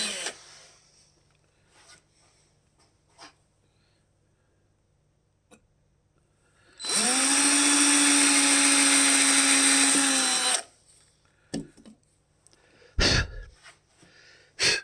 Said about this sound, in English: On the pick guard, drill me a couple holes.